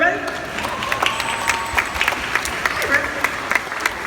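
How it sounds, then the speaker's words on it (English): Applause from the crowd at a Chicago dolphin show, scattered clapping in an open venue, mixed with crowd noise and a host's talk. "Give him a big round of applause, everybody."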